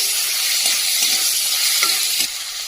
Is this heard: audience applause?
no